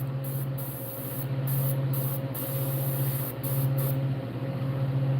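Continuous hissing spray from an airbrush painting a realistic largemouth bass, with a low steady hum underneath and several brief breaks where the hiss cuts out and resumes as the brush clogs.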